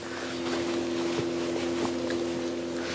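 A motorboat engine hums steadily on the water during shore spinning for perch, a constant tonal drone with light wind noise throughout.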